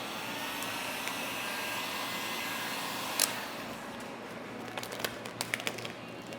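A heat gun blows hot air over vinyl wrap on the trunk of a Hyundai Elantra N, a steady close airflow roar with a few faint ticks and taps near the end.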